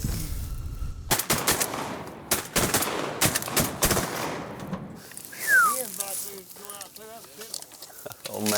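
Shotgun blasts while duck hunting for spoonbills, a rapid volley of loud, close shots followed by quieter rustling and a fading shot echo, with people talking afterward.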